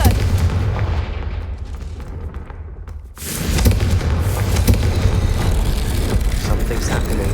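A Confringo fire spell from the game Hogwarts Legacy bursts with a loud, full-band explosive boom after a quieter stretch of game ambience, followed by a sustained roaring rumble.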